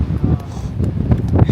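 Wind buffeting a microphone high on a mountain during the Never Summer 60k ultra race in summer 2024, a steady low rumble with gusty swells, loud and close throughout.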